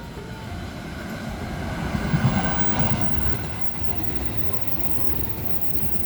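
The Argo Bromo Anggrek executive passenger train, hauled by a CC206 locomotive, rumbles steadily from inside the carriage, a continuous low roll of wheels on rails that swells briefly in the middle before settling back.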